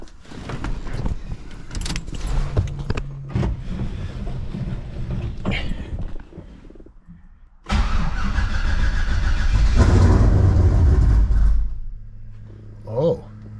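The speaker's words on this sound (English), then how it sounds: "Cold start." A turbocharged On3 LSX engine car cold-starts with a burst of cranking and then catches into a loud, rough, lumpy idle up close, with some mechanical clatter and keys jangling beforehand.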